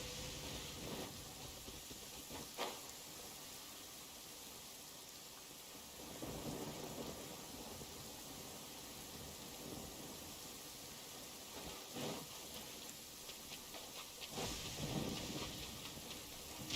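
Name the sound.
heavy rain and thunder in Genshin Impact video game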